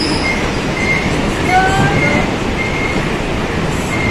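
Steady rumble of a local train running, with faint metallic wheel squeals rising briefly over the continuous clatter, no talking.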